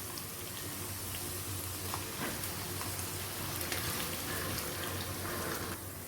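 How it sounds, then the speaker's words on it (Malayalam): Sliced onions fry in hot oil in a pan for a chicken biryani, giving a soft, continuous sizzle and crackle at low level, steady from start to finish. "നമുക്കിത് കുറേശ്ശെയിട്ട് വറുത്തെടുക്കാം"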